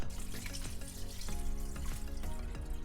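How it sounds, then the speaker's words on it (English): Water pours from a tap into a pot of seasoned meat, a steady splashing gush with small clinks, close and fairly quiet. "So you just wanna add water to that and take it to the stove."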